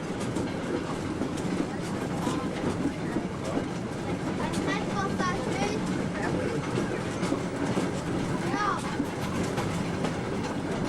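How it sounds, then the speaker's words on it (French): A train rumbles past at the Exporail railway museum with rhythmic clickety-clack of wheels on rails and occasional metallic squeals, steady and fairly close, with some voices faintly in the background. "Là, il y en a des trains."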